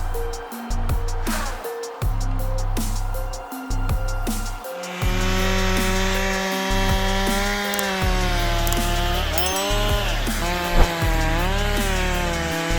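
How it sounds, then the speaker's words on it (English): A logging harvester with a 300 horsepower engine and hot saw cuts giant tree trunks, its loud saw droning steadily and rising in pitch as each cut bites. "a logger with a 300 horsepower engine and a sharp hot saw system rushes into giant tree trunks"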